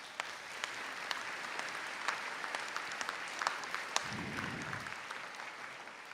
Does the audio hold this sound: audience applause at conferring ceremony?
yes